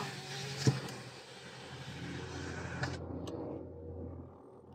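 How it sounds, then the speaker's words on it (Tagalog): Engine drone and vibration from a 2019 Toyota Vios heard inside the closed cabin, a steady low hum with broadband rumble, a sharp knock near the start and a drop in the upper noise toward the end. "sumasabay yung ingay ng makina. So dinig na dinig talaga dito sa loob."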